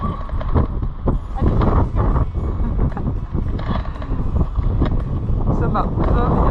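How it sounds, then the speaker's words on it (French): Strong gusts buffet the microphone with a deep rumbling roar on a motorhome trip between Hamburg and Greifswald, while a person talks intermittently under the wind noise. "il y a vraiment beaucoup de vent."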